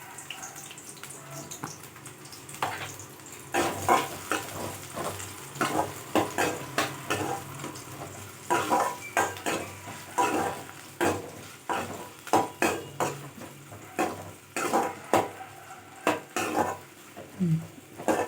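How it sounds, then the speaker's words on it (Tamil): Chopped onion hitting hot oil for a radish chutney, with soft frying under repeated sharp clinks and scrapes of a spoon stirring against the pan, steady and close throughout. "எண்ணெய் கொஞ்சம் சூடானதுமே கட் பண்ணி வச்சுருக்கிற ஒரு வெங்காயத்தையும் இதில் சேர்த்துக்கலாம்."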